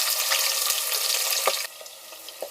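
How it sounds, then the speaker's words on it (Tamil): Sliced onions sautéing in oil with curry leaves and fennel seeds in a pressure cooker for tomato rice, a continuous close sizzle that drops sharply partway through, with a few stirring clicks. "பாக்கில் கட் பண்ண 2 வெங்காயத்தை சேர்த்து வதக்கிக்கலாம்"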